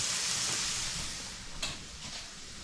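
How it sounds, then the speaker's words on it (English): Fish for Cassareep fish sautés in a pan with a continuous hissing sizzle, close and steady, with a brief sharper crackle midway. "it's sauteing for another minute or so"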